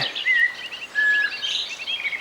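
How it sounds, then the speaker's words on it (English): Birds sing at a canal bank in the early morning, several high thin whistles and chirps overlapping at moderate distance, with two longer sustained notes standing out over a soft background of calls and no voices. "You can hear all the birds singing now, can't you?"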